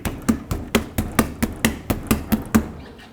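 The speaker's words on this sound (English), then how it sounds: "use a rubber mallet and hit it from the backside" A rubber mallet strikes the back of a wheel on a 1997-2003 Ford F-150 truck, eleven heavy, evenly spaced thuds in a quick steady rhythm, close and loud with no talking.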